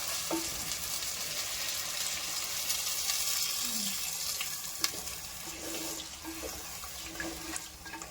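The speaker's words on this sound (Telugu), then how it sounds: "కూర ఉడకడానికి అయితే కొన్ని వాటర్ అయితే యాడ్ చేసుకుంటున్నాను ఇందులో" Water splashes into a hot pan of cooking quail curry and sizzles steadily, a soft bubbling hiss that continues throughout with a few light clinks.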